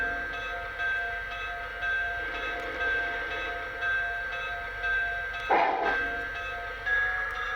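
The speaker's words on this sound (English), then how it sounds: "We do have 5 different bells." Bells of a Lionel 1938 Dreyfuss Hudson model train locomotive, a series of steady ringing tones repeating in short pulses, with one brief brighter clang partway through, fairly quiet and alone.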